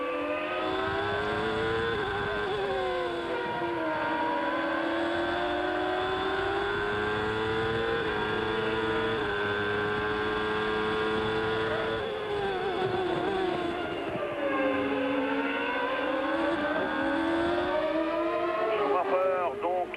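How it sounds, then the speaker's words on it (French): Onboard a 1994 Benetton Ford Formula 1 car, its Ford Zetec V8 engine screams loudly and steadily, pitch rising and falling through gear changes and corners, with a commentator talking over it. "on va essayer d'écouter un petit peu ce moteur Ford ZTEC V8."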